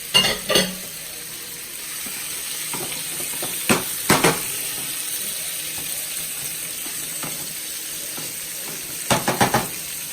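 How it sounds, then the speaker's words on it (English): Shrimp sizzling hard in a saucepan on high heat, a dense continuous frying hiss with a few sharp clatters of a utensil against the pan. "I'm just going to put these shrimp into my saucepan"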